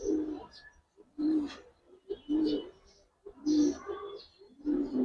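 A pair of Giribaz and Pankhi pigeons coo repeatedly up close, about five rhythmic throaty phrases separated by brief pauses, clear and alone without talk.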